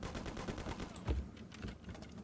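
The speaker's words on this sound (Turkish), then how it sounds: "Bir de pompalı. Oğlum pompalı lan." Pump shotgun firing in the video game Mafia 1, a single heavy low blast partway through, set against a faint background of other game noise and scattered shots.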